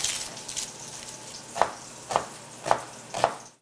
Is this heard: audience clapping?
no